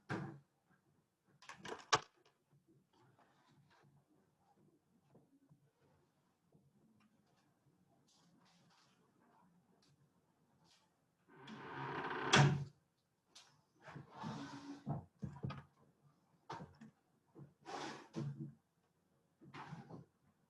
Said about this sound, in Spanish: tengo que cerrar una puerta porque estoy metiendo mucha bulla